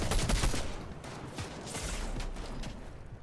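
Rapid gunfire in a Fortnite match, a steady stream of close, sharp shots rattling for a few seconds with no one talking.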